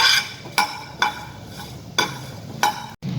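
Garlic and cumin roasting in a pan over a low flame, with a spoon stirring and scraping in a few sharp strokes over a soft, steady sizzle, close and alone.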